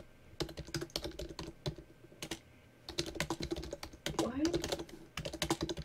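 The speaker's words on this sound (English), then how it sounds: "I need to stop typing because it's super loud on your end" Rapid computer keyboard typing rattles close to the microphone in dense bursts of clicks with short pauses, sounding loud and busy during a Minecraft Master Builders session.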